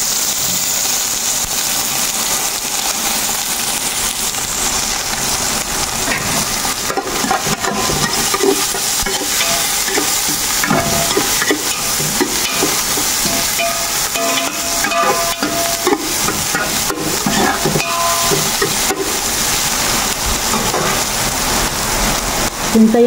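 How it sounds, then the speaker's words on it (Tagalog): Basmati rice sautéing in cooking oil, a loud, dense and steady crackling sizzle like rain on a surface, continuing unbroken with faint scraping and no talk. "Lalagyan natin guys ng cooking oil para siyang ginisa."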